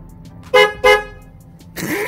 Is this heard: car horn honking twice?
yes